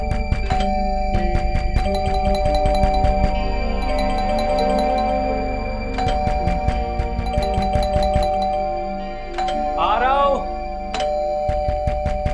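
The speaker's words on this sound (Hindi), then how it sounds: "घंटी भी दे रहा है, खटखटा भी रहा है।" A chiming doorbell rings repeatedly between sharp knocks on a door, with a voice talking over it.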